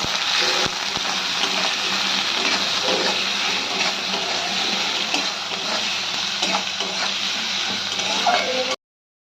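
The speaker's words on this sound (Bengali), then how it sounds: "এটাকে আমরা ফ্রাই করে নেব।" Paneer with chopped garlic, ginger and green chilli frying in a pan gives a steady, dense sizzle with stirring scrapes throughout, ending abruptly.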